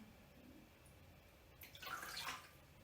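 Gin being poured onto lemon juice and zest in a kitchen, a short, soft liquid splash and trickle after a quiet pause.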